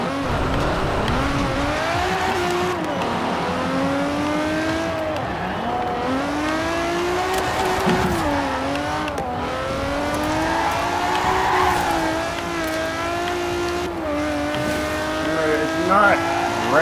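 Engine of the Quartz Regalia Type-D, tuned for rally and all-wheel-drive drifting in Forza Horizon 4, revs and shifts through rising and falling gear pulls, droning steadily close by while someone talks over it.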